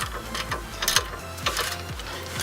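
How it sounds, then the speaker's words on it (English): A ratchet wrench with a 19mm socket tightens brake caliper bolts on a Nissan Xterra, producing a steady series of close, crisp clicking pawl sounds in repeated strokes. "And I am using a 19mm socket."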